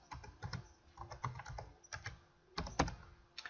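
Computer keyboard typing of a GUI control command, a quiet run of irregular close key clicks in several bursts with a denser flurry near the end, no voices.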